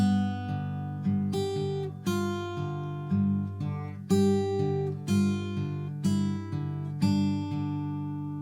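Acoustic guitar fingerpicking, plucked notes in a steady rhythm with a new phrase roughly every second, played close and clear with no voices.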